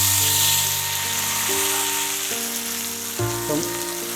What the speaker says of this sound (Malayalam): അപ്പോൾ നമുക്കിതൊന്ന് ജസ്റ്റ് ഒന്ന് തിരിച്ചും കൂടി ഇട്ട് വറുത്തെടുക്കാം